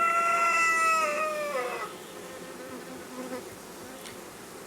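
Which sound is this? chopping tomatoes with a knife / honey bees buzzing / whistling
honey bees buzzing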